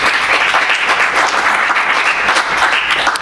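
An audience applauding at a book presentation, a dense, loud and steady wash of clapping hands that lasts throughout without a break.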